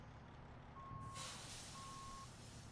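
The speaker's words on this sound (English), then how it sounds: "When you hit the backup, you'll get better air sounds. And it adds in a beeper that this truck originally doesn't have." In American Truck Simulator, a truck's reversing beeper sounds in repeated steady tones while a sharp air-brake hiss bursts in partway through over a low idling engine.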